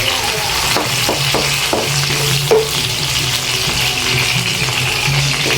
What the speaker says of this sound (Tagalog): Gisa na natin guys.